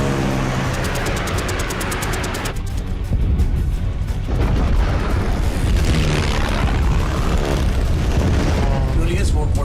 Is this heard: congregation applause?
no